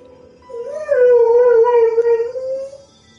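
A dog howls once nearby, a single loud drawn-out wavering cry lasting about two seconds that rises, holds and trails off, with quiet background before and after.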